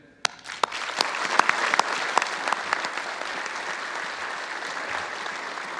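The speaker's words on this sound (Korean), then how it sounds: "여러분 모두에게 격려의 박수를 보냅니다" Applause at a joint commissioning ceremony for new officers of the three armed services held at KAIST: a few sharp, separate claps that quickly swell into steady, sustained clapping from a large audience.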